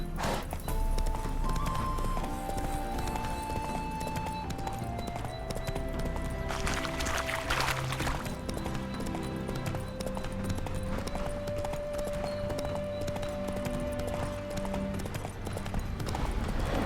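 Rapid hoofbeats pound steadily throughout as a horse gallops in The Witcher 3: Hearts of Stone, close and continuous, with sustained music tones drifting over the rhythm.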